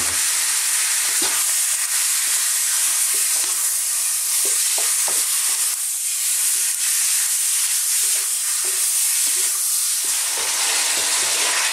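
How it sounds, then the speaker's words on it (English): Pork frying in a hot oiled pan, a loud steady sizzle throughout with occasional stirring knocks and scrapes close up. "We're now going to put this in to our hot pan, and we're going to cook this for about 6 minutes."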